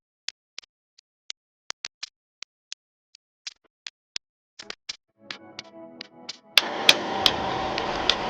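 Repeated hammer blows crushing the outer sleeve of a suspension bushing on a Nissan S13 240SX drift car, sharp isolated metallic strikes at an uneven pace, growing denser and louder toward the end with a sustained grinding clatter.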